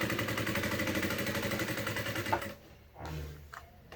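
A sewing machine stitches piping onto a backpack in a fast, steady mechanical whir for a few seconds, then stops, leaving a short quieter stretch with a brief shuffle.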